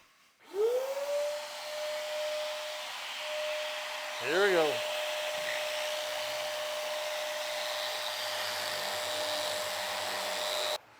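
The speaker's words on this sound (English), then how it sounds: "I'm not only turning on that vacuum, I'm going to turn on my air system here" A shop vacuum spins up and runs with a steady high whine and airy roar, joined by a workshop air filtration system's blower hum while sanding a butcherblock countertop; a voice speaks briefly.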